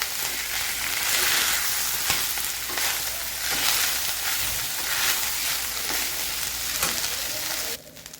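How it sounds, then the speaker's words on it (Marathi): Rice fried with cumin and coriander for jeera rice, stirred in a pan with a continuous close sizzle and repeated scraping strokes, fairly loud, dropping away abruptly near the end. "आता यामध्ये आपण तांदूळ टाकून घेणार आहोत। आता आपल्याला हलवून घ्यायचं।"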